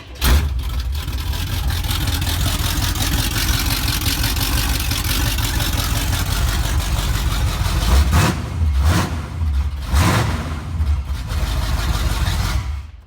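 A car with no exhaust fitted, started and left idling after a shop repair, a loud raw close rumble holding steady with a few brief blips of revving near the end.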